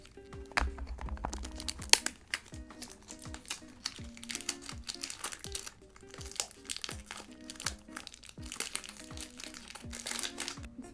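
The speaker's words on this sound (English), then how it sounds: "Again, I'll just use the scissors." Scissors cut open the crinkly packaging of a Lancôme beauty box up close, with repeated sharp snips and rustling crinkles in an irregular rhythm over a quiet background.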